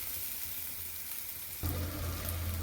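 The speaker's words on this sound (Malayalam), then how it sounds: "ഇനിയും തക്കാളി പച്ചമുളക് ഇഞ്ചി ഇടുകയാണ് അതൊന്ന് മൂത്ത് വരട്ടെ" Tomato, green chilli and ginger frying in a pan, a steady sizzle that jumps louder and denser partway through as the ingredients hit the hot oil, close up with no speech.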